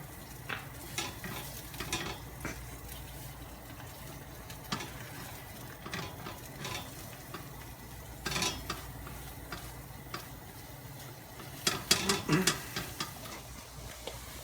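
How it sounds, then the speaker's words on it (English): Egg dumpling filling of eggs and spices being stirred in a pan, scrambled-egg style, with soft scraping and light sizzling, a few sharper utensil knocks toward the end, fairly quiet and close. "Give this a little stir."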